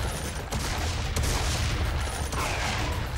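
Rapid shotgun blasts from the video game Serious Sam 3: BFE, a dense, loud burst of overlapping booms packed into a few seconds with no pauses between them.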